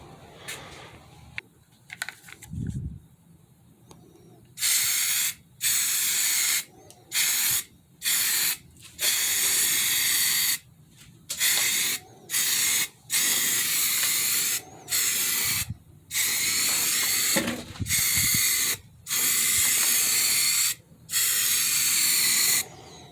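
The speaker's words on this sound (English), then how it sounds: "masked it off just enough so I can spray it" Repeated bursts of spray-gun hiss painting a car panel, about a dozen passes of a few seconds each with short gaps, close and loud.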